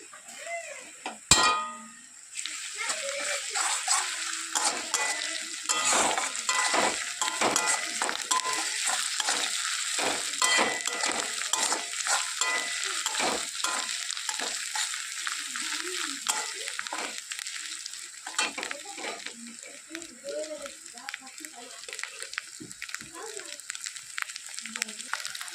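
Ginger paste frying in a pan while dumplings for a fig (dumur) curry are cooked, giving a steady loud sizzle with repeated spatula scrapes and stirring clatter after a sharp clank at the start.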